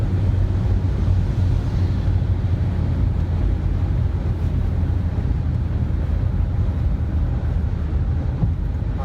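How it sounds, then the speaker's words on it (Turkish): Steady, heavy rushing wind buffeting the microphone throughout while driving a Peugeot 2008, with a low engine-like rumble underneath, loud and continuous with no talking. "Hava şu an çok rüzgarlı."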